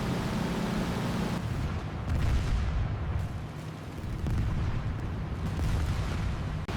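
Dramatized flak bursting around B-17 bombers over Hamburg: a dense, continuous roar of rumbling, booming explosions with no clear gaps, loud and sustained throughout.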